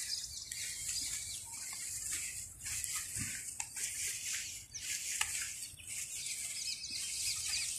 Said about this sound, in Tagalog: yan, may mga ibon.